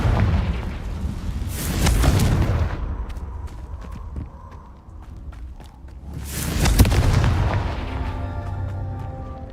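Two loud, booming fiery bursts from a Confringo spell in Hogwarts Legacy, each swelling and rumbling for about a second, several seconds apart, with scattered footsteps and game sounds between them.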